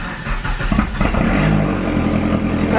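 Straight-piped PT Cruiser GT with an SRT-4 engine revving up hard and then holding a loud, raspy, steady drone, heard up close with no talking.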